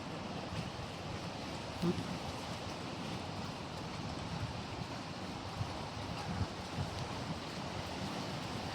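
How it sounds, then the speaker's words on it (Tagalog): Ocean waves wash continuously at a distance inside a mangrove area, a soft, steady surf roar mixed with light wind buffeting, no talking. "Alon-alon pa rin siya dito sa loob ng Katunggan na."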